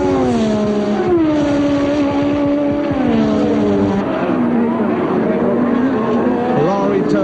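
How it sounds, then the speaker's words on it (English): Ferrari and BMW turbo Formula 1 cars race in 1983, engines screaming loud and continuous with pitch sweeping up and down through gear changes as cars chase each other closely. "Ferrari turbo versus BMW turbo."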